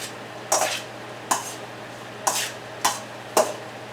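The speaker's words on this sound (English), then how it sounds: "Mix up the salad." A kale and beet salad dressed with honey balsamic vinaigrette is tossed in a bowl, giving five separate soft, wet swishing sweeps at a steady pace with quiet pauses in between.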